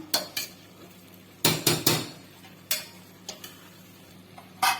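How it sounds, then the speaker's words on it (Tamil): Metal lid placed onto a pressure cooker of rice in a home kitchen: a few sharp clanks and knocks, one cluster of three quick close metallic hits in the middle, the rest scattered, with no talk. "நம்ம குக்கரை வந்து மூடி போட்டு தம்ல போட்டுடலாம்"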